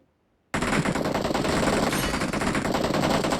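Rapid automatic gunfire erupts in PUBG Mobile, a dense loud sustained burst of shots starting abruptly after a short silence.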